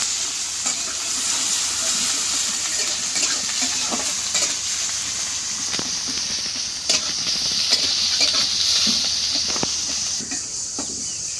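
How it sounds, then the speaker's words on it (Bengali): Onions fry in a pan with a bright, constant hissing sizzle and occasional stirring scrapes, close and fairly loud, with no talk. "দিয়ে দিলাম পেঁয়াজ।"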